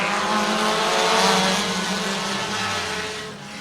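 Modified race cars roar to life at a green flag start on an oval dirt track, a dense, loud, continuous engine drone that swells slightly and then eases, with no voices.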